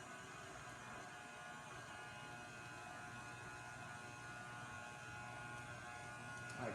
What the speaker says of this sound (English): you take your stand mixer, turn it on a little bit, and then you take your dough